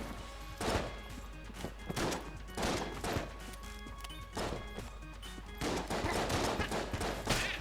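Rapid gunfire from the video game Enter the Gungeon, loud repeated bursts of shots with impacts over game music, continuing in clusters throughout.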